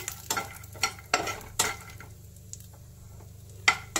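Peanuts frying in a pan with a soft, steady sizzle under a low hum, punctuated by several sharp scrapes and clinks of a spatula stirring against the pan.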